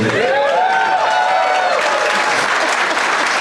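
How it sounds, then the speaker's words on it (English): Live audience at a comedy podcast taping in a basement in St. Louis cheers and applauds loudly throughout, with a few whoops rising above steady clapping. "Don't cheer too much."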